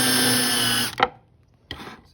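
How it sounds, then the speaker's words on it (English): A power screwdriver's driver bit countersinks a screw hole in wood, giving a loud steady whirring burst that stops abruptly, then a short second spin after a brief pause. "Another little tip is you can countersink just using the driver from the"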